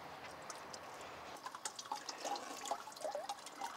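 Water trickling and dripping as it drains through a fine mesh sieve while sediment is scraped off to sort aquatic organisms, faint and close, with small splashes and drips growing busier partway through.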